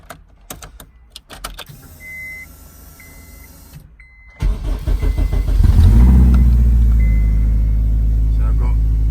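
A stripped-out Honda Civic EP3 turbo build starts up after a few switch clicks and electric whirs, then the engine catches and settles into a loud, deep, rumbling idle close by, with brief talk in the background.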